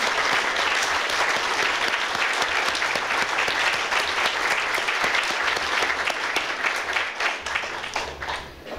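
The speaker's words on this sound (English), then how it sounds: "join me in sending her, if I may, a round of applause" A seated audience at a party for the Centre for Policy Studies gives a long, dense round of applause, loud and sustained throughout before gradually thinning toward the end.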